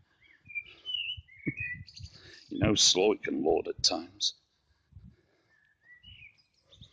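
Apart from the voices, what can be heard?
birds twittering in trees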